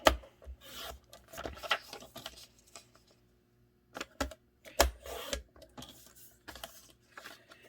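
Netted craft material being cut down to a 6 by 8 size, close scissor snips and rasping rubs in uneven bursts with short pauses between them.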